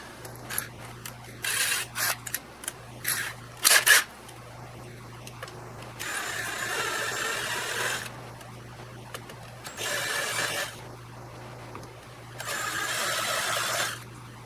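Machining a chamfer on a coin bank part: a few sharp ticking bursts, then three long, steady broadband cutting passes separated by short pauses, over a constant low machine hum, close and moderately loud.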